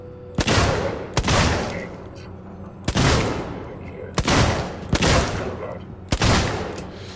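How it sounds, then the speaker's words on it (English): A loud gun fires in Alien Isolation, about six sharp, booming shots at irregular intervals, each with a decaying echo tail. "I'm gonna kill this guy with the loud gun"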